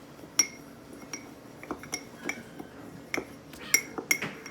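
A metal spoon stirs sourdough starter in a glass jar, giving irregular clinks and taps against the glass at close range, with faint scraping between strikes.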